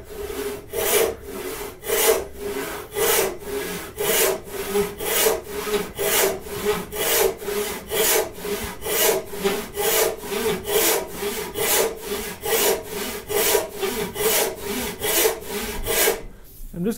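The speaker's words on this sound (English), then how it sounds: "I'm just gonna let the saw do the work." A hand saw cuts through a mahogany board in long, even back-and-forth strokes, each rasping pass repeating in a steady rhythm, close and loud, ending abruptly with no talk over it.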